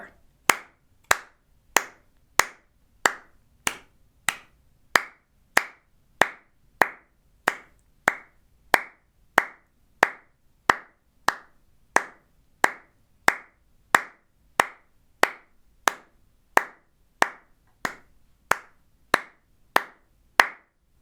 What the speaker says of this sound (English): So this time you play the sax, I'll do the clapping parts.